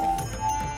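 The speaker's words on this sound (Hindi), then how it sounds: "आप अभी भी सुन सकते होंगे कि जो घंटी की नाद है" Temple bell at a Shiv temple in Nahan, Himachal, ringing with sustained metallic resonance and a few soft repeated strikes that fill the space, fairly close and steady, with no talking.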